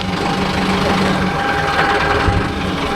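A Mahindra Yuvo Tech Plus 585 4WD tractor engine idles close by with a steady, throbbing diesel drone and a constant low hum that holds level throughout.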